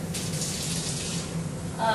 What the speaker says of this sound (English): Alright, I'm going to put a little bit of water in there.